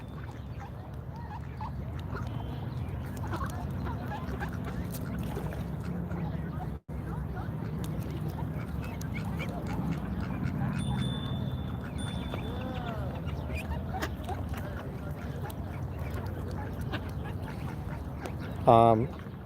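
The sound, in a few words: ducks quacking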